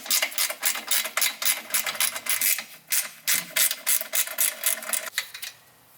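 A ratchet wrench loosening the bolts that hold an Apexi muffler to its bracket on an FL5 Civic Type R, a close, rapid clicking pawl in repeated bursts, stopping near the end, with no talk.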